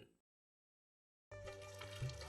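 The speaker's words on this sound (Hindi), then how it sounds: "ब्रश करता हुआ भी तू पानी व्यर्थ में बहा रहे हो, और अब जब नहा रहे हैं तो भी व्यर्थ में बहा रहे हो।" Tap water runs steadily for about a second after a brief earlier sound, broadband and fairly loud, like a faucet left flowing while someone bathes.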